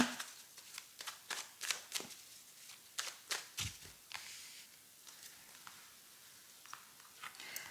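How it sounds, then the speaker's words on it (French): Tarot cards being shuffled by hand close by, with quick, dry riffling bursts in a loose rhythm that thin out into a few sparse flicks, and no talking. "je vais quand même recouvrir ces 2 cartes suivantes. Je vais bien les mélanger avant."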